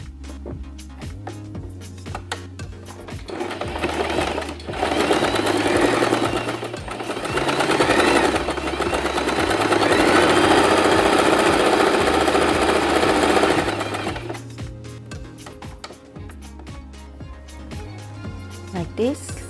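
A sewing machine stitches folded fabric for a simple turban, running in short clattering bursts with a longer fast run in the middle. Pauses separate the runs, and a person talks alongside.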